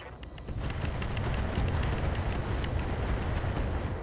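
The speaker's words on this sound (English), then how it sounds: "those artillery shots were not great" A full artillery salvo fired in the video game RogueTech: a dense, rumbling barrage of booming blasts that swells after a brief lull and then rolls on loud and continuous.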